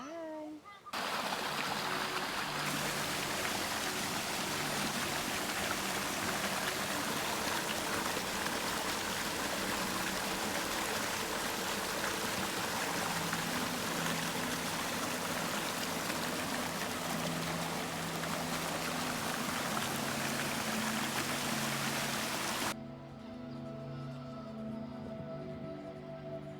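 A park stream runs past the listener, a steady close rush of flowing, splashing water that continues for over twenty seconds before dropping away, with low voices and tonal hum faintly present underneath.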